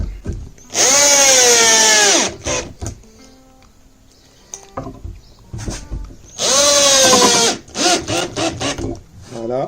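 A power drill drives screws into wood for a 10 m² vegetable garden bed, two loud whirring bursts of a few seconds each, separated by quieter handling knocks, with brief talk in between.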